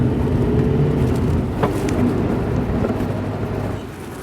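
A car drives along in the rain, a steady broad wash of road and rain noise inside a roofed car, close and even, fading slightly at the end with no talking.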